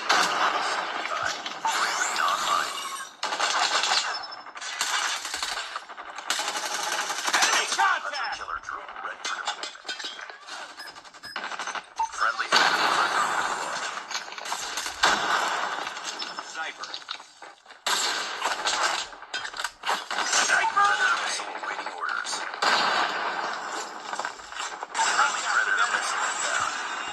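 Call of Duty Mobile played on a Lenovo Tab P11 Gen 2, with bursts of gunfire, clinks and crashes under almost constant in-game radio callouts and talk, the loudness rising and dipping in waves.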